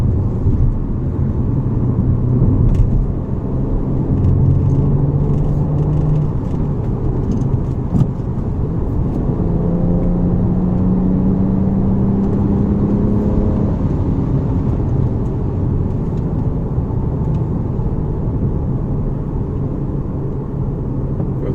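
A 2009 BMW 135i cruises along a road near the Mexican border in San Diego, its engine hum and tyre roar steady and close throughout, with faint whining tones rising and falling over the drone.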